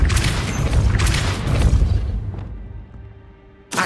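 A Depulso spell is cast in the video game Hogwarts Legacy, landing as a loud, deep, rumbling boom that fades over a couple of seconds before another sharp burst at the end.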